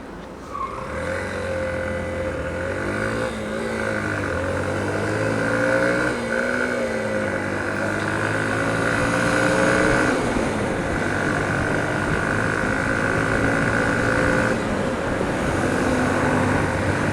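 A Honda CB125F motorcycle engine running at high revs around 7000 rpm while riding, a steady droning hum with rising and falling pitch under continuous wind rush, no talking.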